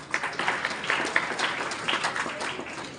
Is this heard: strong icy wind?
no